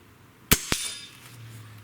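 Gamo Magnum .22 caliber breakbarrel air rifle firing once, a sharp crack followed a quarter second later by a second loud smack of pellet impact, both close and with no talking.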